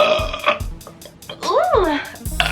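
A girl burps several times in a row, close and loud, the burps wet and uneven with a short pause between them.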